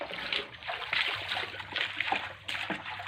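Vegetables such as chayote leaves, long beans and katuk leaves being washed and soaked in water, a steady close splashing and sloshing with trickles throughout.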